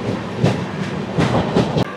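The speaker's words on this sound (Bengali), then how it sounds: "ও আজমের শিয়ালদা, এটা আজমের শিয়ালদা এক্সপ্রেস" Ajmer–Sealdah Express rolling past on an Indian main line, a steady rumble of wheels with repeated clattering rail-joint beats across two seconds, close and fairly loud.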